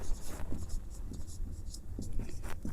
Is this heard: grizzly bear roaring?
no